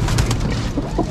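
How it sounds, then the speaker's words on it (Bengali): Racing pigeons coo softly at a pigeon farm, a few low burbling calls close by over a busy background of shuffling birds. "এই যে সবই পাল্লার কবুতর"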